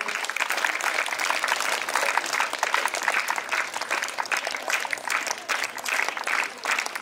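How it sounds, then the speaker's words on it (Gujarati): An audience at a school memorial ceremony applauds to welcome a guest, a dense, continuous round of clapping from a large crowd that stays fairly loud throughout. "આપણે જોરદાર તાળીઓથી વધાવીએ"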